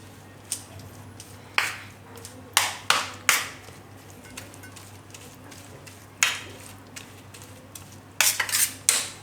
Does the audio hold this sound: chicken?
no